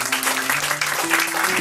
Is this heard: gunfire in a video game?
no